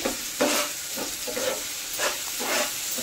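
Curry leaves crackling and sizzling in hot oil while being stirred in a pan for a ridge gourd curry, a loud continuous hiss with rhythmic stirring strokes, close and without talk.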